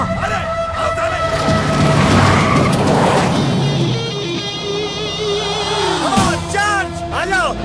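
Car tires skid and squeal in an action scene from the 2012 Hindi film Rowdy Rathore, a loud rushing screech with engine roar and a rising whine, with voices underneath.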